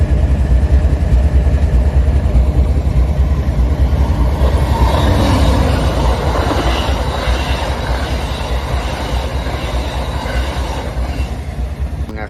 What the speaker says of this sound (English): Amtrak 42, led by Amtrak number 108, the Phase 6 Heritage Unit, as part of Amtrak's 50th anniversary series.